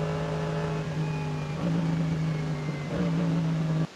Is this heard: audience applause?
no